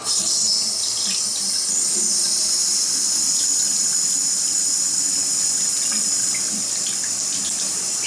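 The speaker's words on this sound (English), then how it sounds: "Let's see if I can get some water running. Just maybe some cold water." Cold water runs steadily from a tap into a household fixture while a clogged toilet drain is being cleared. The stream is close and continuous, with no talking over it.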